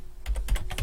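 A command is typed on a computer keyboard, a quick run of about five crisp key clicks, close and clear with no talking.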